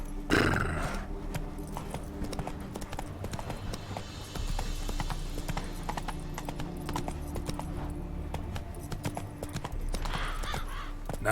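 Roach, a horse in The Witcher 3, gallops with steady clip-clop hoofbeats and a brief whinny near the start, loud and close under game music and ambience.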